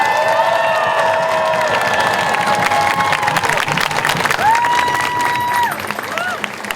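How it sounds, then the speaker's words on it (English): A crowd applauds and cheers for a martyr named Yang Hee-dong during a talk. Loud, dense clapping runs throughout, mixed with whoops, shouts and sustained tonal calls from the audience. "Can we give a round of applause to our martyr, Yang Hee-dong, please?"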